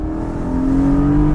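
A Porsche 718 GTS with a 4.0-litre flat-six accelerates hard, its steady engine note climbing smoothly in pitch and growing louder, heard up close with no talk.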